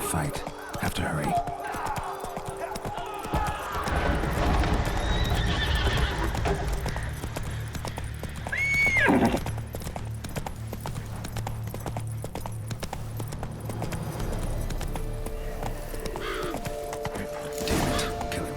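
In The Witcher 3: Blood and Wine, the horse Roach pounds along at a gallop with dense, close hoofbeats. A sharp neigh rises midway, and some faint clashing knocks sit under the ongoing clatter.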